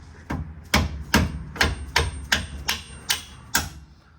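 Eight sharp metallic hammer strikes in a steady rhythm, close and loud, each ringing briefly before the next blow, as a bolt is driven through a rear control arm skid plate.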